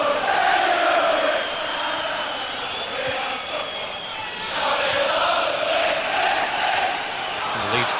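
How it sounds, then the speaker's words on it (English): A large football crowd at a Leeds United match sings and chants steadily in the distance, a broad sustained roar of many voices with slight swells. "Crowd in full voice here"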